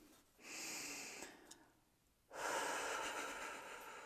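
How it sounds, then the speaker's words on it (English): A deep, slow breath during a relaxation exercise: a long, close airy rush, a quiet pause, then a second longer and slightly louder breath, with no talking. "Take a deep breath in."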